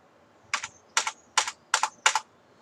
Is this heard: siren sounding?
no